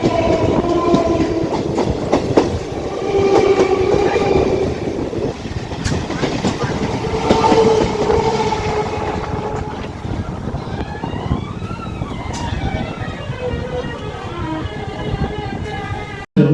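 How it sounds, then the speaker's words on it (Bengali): A Budge Budge–Sealdah local train rumbles past at a crossing with rhythmic clickety-clack of wheels on rails, loud and close, with metallic squeals and a brief horn-like tone near the end. "আপ বজবজ লোকালের সঙ্গে এখন হচ্ছে ক্রসিং।"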